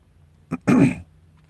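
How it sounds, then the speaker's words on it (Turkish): A person gives one short cough followed by a longer, rough throat clearing, close and fairly loud, amid otherwise quiet surroundings. "öksürüğüm devam ediyor."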